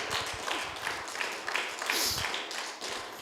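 A church congregation clapping and applauding in worship, a steady wash of many hands clapping in rhythm, fairly loud and continuous throughout.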